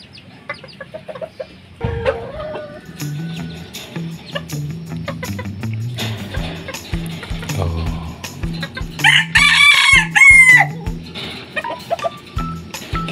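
Small bantam chickens (ayam kate) crow and cluck repeatedly in a yard, a loud rooster crow rising near the end over steady clucking, with scattered clicks and knocks and faint voices in the background.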